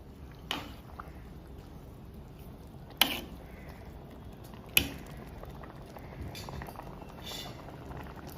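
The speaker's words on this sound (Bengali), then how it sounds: "এটা ফুল দমে পাঁচ মিনিট ফুটিয়ে নেব" Prawn pulao with fried cashews and raisins boiling in a pot on full flame, a soft, steady bubbling and simmer broken by a few sharp knocks and clicks.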